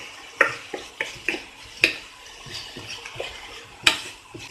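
Chopped banana stem is stirred and sautéed in a pan for soup, giving a run of irregular clinks and scrapes, some sharp and close, with no one talking.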